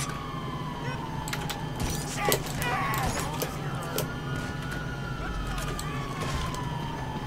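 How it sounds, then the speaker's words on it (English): Police sirens wailing in Grand Theft Auto, a long sweeping tone gliding down and rising again, mid-distance beneath game effects, thuds and scattered clicks, with someone talking over it. "You are hearing sirens."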